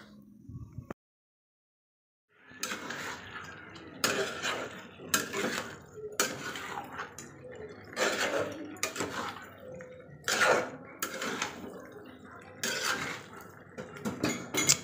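A metal pot of meat curry with added water gets its lid put on in a kitchen. After a short silence come a series of close, clanking metal knocks and scrapes of lid and cookware, with no talking.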